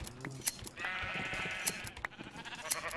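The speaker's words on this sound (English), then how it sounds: "Oh, look at all the white sheep. Oh, it's black sheep." Sheep bleat in the video game Minecraft, with several short nasal bleats spaced across a few seconds over faint background game sounds.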